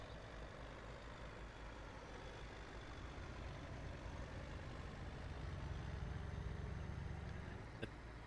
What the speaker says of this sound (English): The tractor sounds interesting.